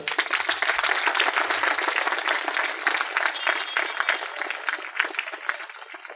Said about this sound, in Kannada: ವಿಶಾಲಾಕ್ಷಿ ಅವರಿಗೆ ಜೋರಾಗಿ ಚಪ್ಪಾಳೆ.